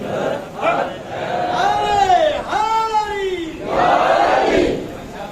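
At a Muharram majlis, a crowd chants the religious slogan Ya Ali in loud, rising and falling group cries, several surging shouts in a row, with a leader's voice calling out among them.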